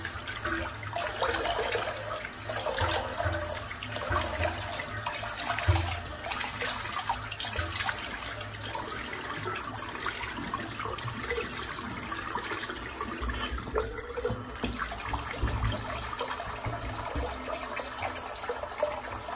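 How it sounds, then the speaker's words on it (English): Water from a bathroom tap splashes and runs continuously for a long stretch as a sink is drained and filled again, a steady rushing close by with small clinks and shifts in flow. "I'm just going to empty the sink out, fill it back up"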